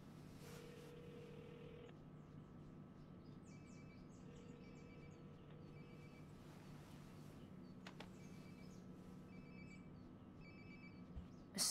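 A phone rings somewhere nearby in the video game Life is Strange: Before the Storm, a steady muffled ringtone repeating under quiet room ambience and faint birdsong, never loud, throughout.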